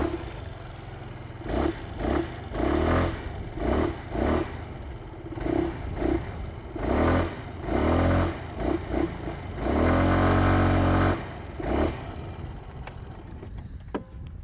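An Aprilia SXR 160 scooter's exhaust is revved repeatedly up close, with short throttle bursts rising and falling over a soft, lightly bassy idle and a longer sustained rev near the end.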